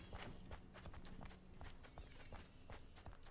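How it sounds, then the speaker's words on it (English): Repeated footsteps of a character walking in the farming video game Ranch of Rivershine, close and fairly loud, falling in a steady rhythm of soft thuds over constant ambient game noise. "Do the footsteps sound unnaturally loud?"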